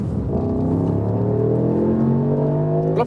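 Engine of a 2022 Mercedes-AMG SL 63 with the roof closed pulls from 40 to 70 mph, a steady rising drone heard from inside, close and continuous.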